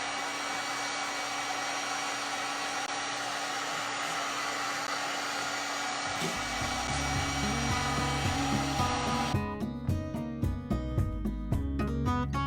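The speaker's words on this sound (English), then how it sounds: "if you put the heat gun super close to this, it's going to bubble and crack" A heat gun held close drying milk paint on a mirror makeover project gives off a loud, steady blowing whir the whole time; a lower hum joins partway through, then rhythmic clicking.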